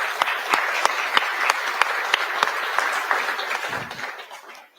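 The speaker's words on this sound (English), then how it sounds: "I want to give a round of applause to the community here in Parkland." Audience at a ribbon-cutting ceremony for a renovated library in Parkland applauds, a steady spread of clapping with some loud near claps standing out, fading away toward the end.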